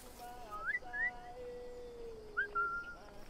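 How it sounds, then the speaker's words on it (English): A person whistles to a guard in Assassin's Creed Black Flag: a few short, rising two-note whistles, clear and fairly close, set against quiet background ambience with soft low tones beneath. "whistle to him."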